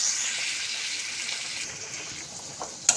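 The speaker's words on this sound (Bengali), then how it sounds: "ধনে গুঁড়ো, জিরে গুঁড়ো, এটাকে ভালো করে এবার কষে দিতে হবে।" Ground coriander and cumin sauté with tomatoes in a pan for vegetarian spiced khichuri, making a steady close sizzling hiss with a small pop at the end.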